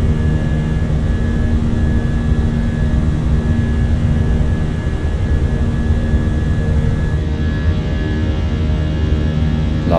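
Twin IAE V2500 jet engines on a Fenix A320 climbing out after takeoff in Microsoft Flight Simulator, a steady loud turbine roar with a sustained whine, continuous and close throughout with no talk.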